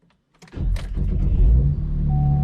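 A 2015 Chevrolet Camaro LS V6 starts up, its engine catching after a brief crank and settling into a loud, steady, slightly rough running note close by, with a thin electrical whine joining near the end.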